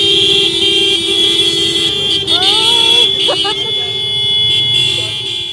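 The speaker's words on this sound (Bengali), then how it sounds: "সারা পাড়ার লোক মনে হয় উঠে পড়লো ওদের হর্নের আওয়াজে" Vehicle horns honk in a wedding bike procession, with a long sustained horn tone over engine noise and a few short higher toots partway through, loud and close.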